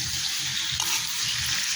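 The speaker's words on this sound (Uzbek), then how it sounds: "Tavaga solib qovura olamiz." Sliced meat, cut into thin strips for a funchoza salad, fries in a pan with a steady, close sizzle and crackle and occasional stirring, heard alone.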